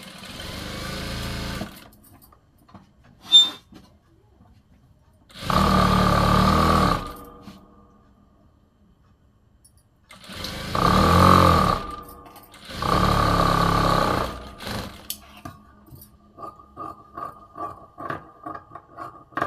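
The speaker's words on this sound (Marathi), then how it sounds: "आता आपण खालच्या साईडनी पण कमरेला एक अर्धा इंचाने टीप मारून घेऊ लगेच." A sewing machine runs in several separate bursts while hemming a boat neck blouse, with quiet handling gaps between the stitching runs. Close and fairly loud, with no talking.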